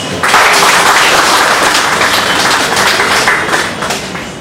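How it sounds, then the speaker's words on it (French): A dense, loud wave of audience applause for a writer and poet, with many hands clapping steadily and then tapering slightly at the end. "Sur ce, je vous demande une fois de plus de l'acclamer."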